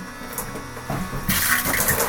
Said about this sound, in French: on prend notre douche en appuyant ici sur le bouton rouge